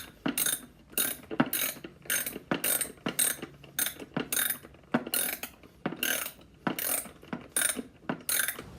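Bolts being fastened into an upside-down shop assembly and outfeed table with a ratchet, a steady series of about fifteen close, sharp clicking bursts in a regular rhythm, no voices.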